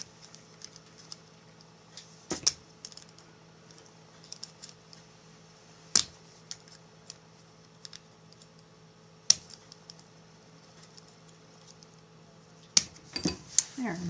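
Tiny micro screws are tightened into a ring in a series of faint metallic clicks and scrapes, with a few sharper ticks spaced seconds apart over a low steady hum.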